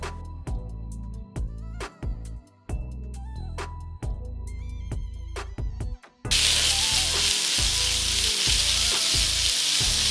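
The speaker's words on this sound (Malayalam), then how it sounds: "ഷാലോ ഫ്രൈ ചെയ്യാനായിട്ട് നോൺ സ്റ്റിക്ക് പാൻ" Marinated chicken shallow-frying in a non-stick pan: sharp clinks and stirring at first, then a loud, dense, continuous sizzle takes over for the last several seconds, with no talking.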